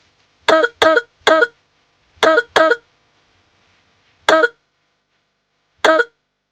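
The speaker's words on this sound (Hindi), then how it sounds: "दिन भर खांसती रहती हो" A woman gives a series of short, sharp dry coughs, in a quick triple, then a pair, then single coughs spaced apart, close and loud against near silence.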